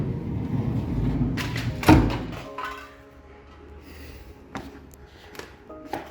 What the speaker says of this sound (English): open a drawer.